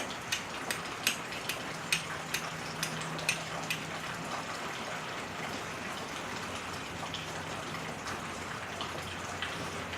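Rain falling outdoors around a campfire attempt, a soft steady patter with a run of sharp, evenly spaced drips or taps near the start that thin out later, faint and with no talk.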